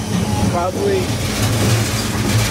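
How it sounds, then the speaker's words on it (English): A train rumbles along with a steady low engine drone and rolling rail noise, heard close by from on board, while a person speaks briefly over it. "That's the train from hell."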